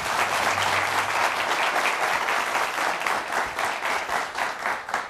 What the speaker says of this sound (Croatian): Aplauz za naše gledaoce.